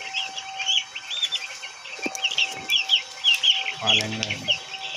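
Two hens and chicks with leg problems cluck and chatter close by, with a steady background hum and a brief low rumble near the end.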